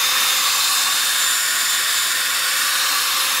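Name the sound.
dry sanding a Mercedes headlamp lens with 500 grit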